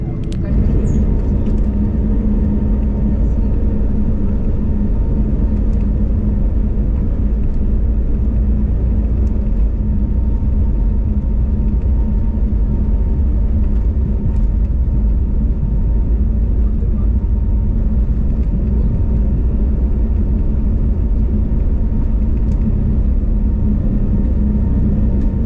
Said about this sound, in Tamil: அண்ட் இப்போ டேக் ஆஃப்